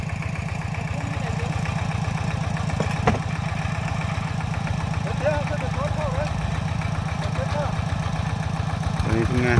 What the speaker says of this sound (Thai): นี่รถไถติ๊กแตกเข้า